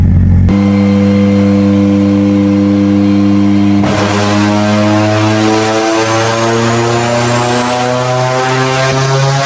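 A Mitsubishi Evo engine, just after a cold start, revs hard and loud close by, a dense steady roar with a sharp jump in pitch partway through that holds at a higher drone, with no talking.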